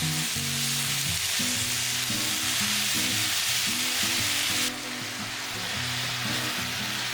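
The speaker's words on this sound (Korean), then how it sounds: "중약불로 느타리 버섯 넣고 잘 섞어줬다" Oyster mushrooms being stir-fried in a pan over medium-low heat give a steady sizzle with gentle stirring scrapes, close and continuous, softening slightly partway through; no voices.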